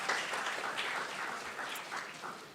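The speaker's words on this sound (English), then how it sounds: "so you can clap for me" Audience applause for a speaker at a National Democratic Congress youth gathering in Ghana, a steady wash of many hands clapping at moderate distance, fairly soft and even throughout with no talk over it.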